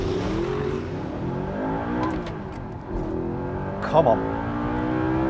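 Audi R8 V8 launching hard, its engine revving and pulling through rising gears with a gear change mid-run, heard from inside the car with brief spoken words.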